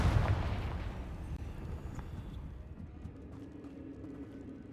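A Confringo fire spell in Hogwarts Legacy bursts with a loud boom at the start, then a lower rumbling blast that slowly fades into crackling debris and a steady low hum.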